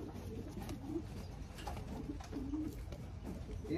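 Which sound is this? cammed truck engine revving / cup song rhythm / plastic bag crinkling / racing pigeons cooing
racing pigeons cooing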